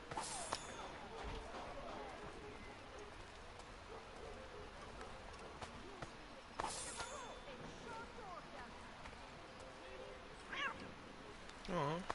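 A cat meows a few times in Assassin's Creed 3, faint against a quiet, rain-like ambient background, with a voice speaking at times.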